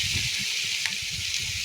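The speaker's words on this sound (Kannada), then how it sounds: "ನೋಡಿ ಚೆನ್ನಾಗಿ ಫ್ರೈ ಆಯಿತು." Steady hot-oil sizzle from a pan of lemon rice (chitranna) with grated carrot frying, a continuous close hiss with no talking.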